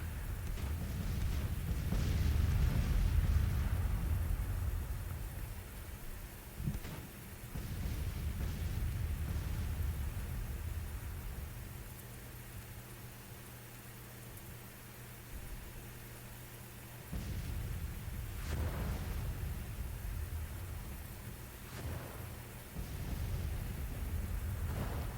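Deep rolling thunder rumbles with steady rain hiss in the Grand Tactician: The Civil War strategy game, loud low booms swelling and fading over a continuous wash of rainfall with no voices.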